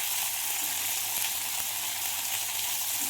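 Thick-cut bitter gourd slices fry in hot oil, giving a steady, dense sizzle that holds evenly all the way through at close range, with no voices.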